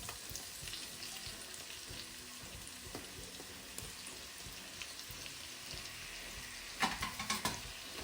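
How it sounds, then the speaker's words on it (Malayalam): Ginger garlic paste sautéing in a pan for paneer jalfrezi, a steady quiet sizzle with scattered stirring scrapes and a brief louder clatter near the end. "ഈ ഇഞ്ചി വെളുത്തുള്ളി പേസ്റ്റിൻ്റെ പച്ചച്ചുവ മാറുന്ന വരെ വഴറ്റാം"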